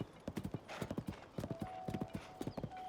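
Horse hooves clip-clop steadily in the video game Zelda: Tears of the Kingdom, a rapid even trotting rhythm close and clear, with a faint synthetic tone running underneath.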